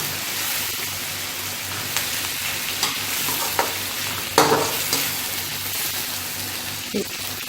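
Onions and tomatoes cooking in ghee give a steady sizzle with occasional clicks and scrapes of stirring, close and fairly even, with a faint voice briefly in the background.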